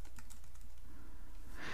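Typing on a computer keyboard to enter a search in the keyboard shortcuts panel of Adobe Premiere Pro. It comes as a quick run of soft, close key clicks that stays steady for under two seconds, with no voices.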